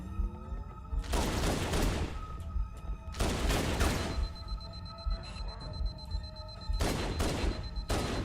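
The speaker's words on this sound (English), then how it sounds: "And there is friendly fire from the turret." Turret gunfire in a video game comes as three loud, dense bursts of rapid shots separated by quieter stretches of tonal game sounds, with a faint high beep running through.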